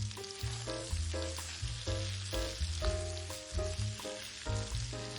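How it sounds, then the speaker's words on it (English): Chopped onion sizzles steadily in olive oil in a hot non-stick frying pan, a continuous close frying hiss under louder background music with no talking. "Sauté the onion for 5 minutes over medium-high heat."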